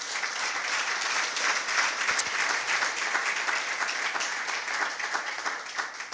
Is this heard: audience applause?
yes